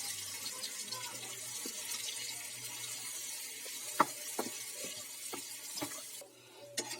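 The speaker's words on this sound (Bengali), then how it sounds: "আমি এবার পানি দিয়ে দেবো পরিমাণ মতো।" Water is poured into a pan of frying egg curry, a steady hiss and sizzle with some stirring clatter and a few sharp utensil knocks against the pan, close up and without talk.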